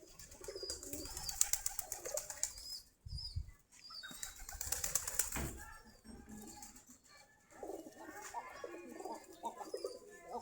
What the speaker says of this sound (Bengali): আমাদের কবুতরগুলা খাবার খাচ্ছে এখন